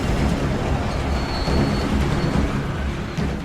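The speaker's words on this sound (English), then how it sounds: "Your arrival is met with a soundtrack beating of the train against the tracks, punctuated by whip cracks of red lightning" A train beats heavily against the tracks in a dense, loud, continuous low rumble with faint rhythmic clatter. No distinct thunder cracks stand out, and no one speaks.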